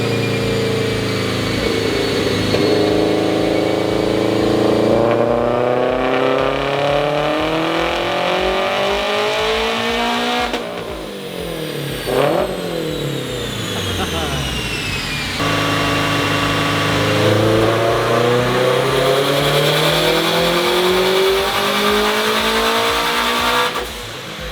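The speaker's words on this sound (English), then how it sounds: "So it sounds like the BRZ is getting into power a little bit easier now" A turbocharged Subaru BRZ revs hard on a dyno, its engine note climbing through long loud pulls, dropping sharply around the middle and then rising again, with no voices over it.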